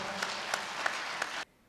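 An audience claps loudly for brand ambassadors, a dense burst of applause with a few sharper peaks that stops abruptly after about a second and a half.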